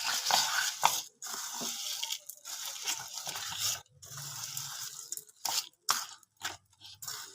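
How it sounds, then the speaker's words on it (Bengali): Puffed rice being mixed with gram flour in a bowl by hand, a dry rustling crunch in irregular bursts with short pauses, close and fairly loud, no talking. "ভালো করে বেসনটার সঙ্গে মুড়িটা মেখে নেব।"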